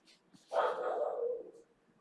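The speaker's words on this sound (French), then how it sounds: "Il y a un chien qui a aboyé dehors, forcément." A dog barks once outdoors, a single drawn-out bark that is moderately loud and slightly distant, with faint indoor sounds around it.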